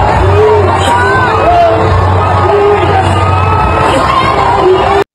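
A crowd of protesters shouts and yells outdoors, loud and continuous, with overlapping cheers and whoops filling the whole stretch before it cuts off abruptly.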